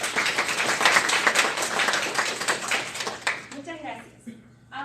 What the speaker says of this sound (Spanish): Por favor, recibamos a nuestras ponentes con unos cálidos aplausos.